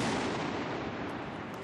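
Rifle salute volley fired in Munich to close Oktoberfest, a sustained dense crackle of gunfire with no clear gaps, loud and heard alone without voices.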